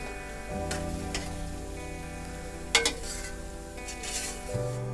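A spoon stirs coriander through a mince and green bean curry in a pot on the stove, giving soft scraping and a faint sizzle, with a couple of brief clinks against the pan and no voices.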